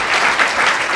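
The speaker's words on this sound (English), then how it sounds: "there you go, you can clap" Dense, loud applause fills a banquet hall during an interview segment at a recovery-community event, a steady wash of many hands clapping close up with no speech over it.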